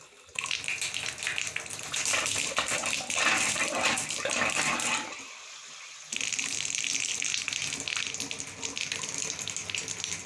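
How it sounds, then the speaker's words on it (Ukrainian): Tap water gushes steadily from a faucet after a home water filter replacement, loud and close, cutting off briefly for about a second midway before resuming at full flow. "Необхідно відкрити кран, щоб вода"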